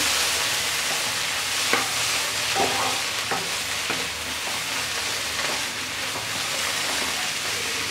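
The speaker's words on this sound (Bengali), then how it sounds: "এবার একটু নেড়ে নামিয়ে ফেলবো।" Bottle gourd and egg fry in a pan with a steady close sizzle, broken by a few sharp scrapes and clacks of a spatula stirring, with no voices.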